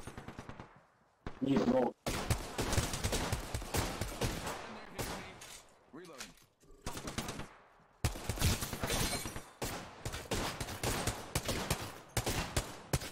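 Apex Legends gunfire erupts in loud bursts of rapid automatic shots with short gaps, close and harsh, while a player speaks briefly over the firefight.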